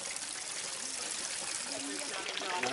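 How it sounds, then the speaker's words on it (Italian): Water trickles steadily from a drinking-water spring at Capo d'Acqua on Monte Avvocata, a continuous soft splashing flow heard close by with faint background music and voices. "questa è acqua potabile"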